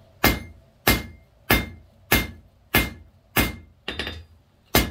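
Hammer blows forging a blunt taper on a hot steel firepit poker at the edge of an anvil: eight sharp, ringing strikes at a steady rhythm, loud and close, with one doubled blow near the end.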